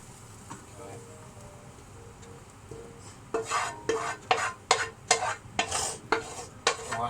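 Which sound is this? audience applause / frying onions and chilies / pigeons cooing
frying onions and chilies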